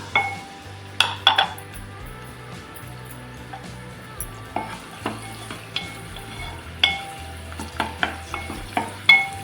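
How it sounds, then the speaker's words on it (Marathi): Garlic sautés in hot oil for a sour and spicy pomfret curry, a low sizzle under repeated sharp metal spatula scrapes and clinks against the pan. "आपलं तेल गरम झालेलं आहे आता आपण याच्यामध्ये टाकणार लसूण"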